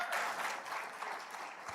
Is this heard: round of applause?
yes